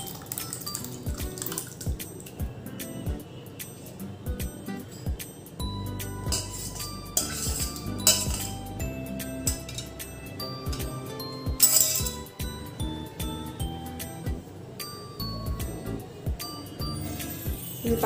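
Freshly made chhena strained through a cotton cloth over a bowl for rasmalai, heard close as dripping water with small clinks and taps scattered throughout, without talk.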